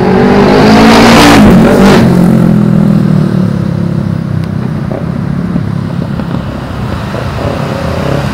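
Fast cars roar past a cyclist in the fast lane on a Manila Bay bike ride near MOA, loud close engine whooshes swelling and fading over steady traffic drone with rattling bike noise.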